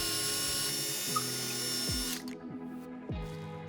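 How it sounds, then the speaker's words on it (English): A power drill pre-drills holes in a log home wall for heavy-duty barn door mounts: several short whirring bursts that spin up and wind down, each ending with a pitch drop, close and clear with no talk. "We'll begin by pre-drilling."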